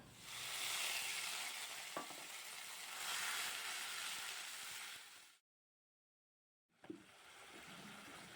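Spice paste hitting hot oil in a pan after a tempering has browned, a loud broad sizzle with one sharp knock, then a moment of silence before the hiss resumes.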